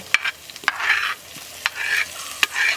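Onions frying with tomato, green chili, ginger and garlic in a pan, a steady close sizzle broken by sharp scraping stir strokes every half second or so.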